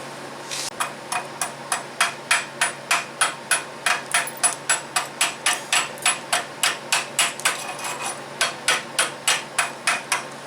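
Slag chipped off a fresh weld from a VEVOR MMA 200 stick welder with a chipping hammer, about thirty crisp metallic taps in a brisk, steady rhythm, close and alone.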